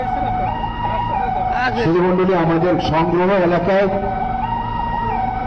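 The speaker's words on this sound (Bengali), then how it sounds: "মাউন্ট অ্যাডোরা হসপিটাল থেকে একটি আইসিইউ অ্যাম্বুলেন্স চলে এসছে আমাদেরকে সাপোর্ট করার জন্য" An ICU ambulance siren wails loudly and steadily during an airport aircraft-fire emergency, continuous under someone speaking over a public address system.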